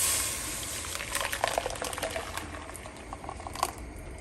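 A blended mixture containing sour cream is poured into a saucepan with a splash of hot oil. It gives off a soft, crackling sizzle and splatter that comes and goes in short bursts at a fairly quiet level.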